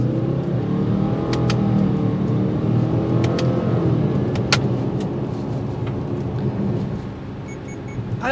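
A 2023 Subaru Ascent SUV with a CVT transmission pulls away from a complete stop, its engine rising in a steady, loud drone heard from inside the cabin.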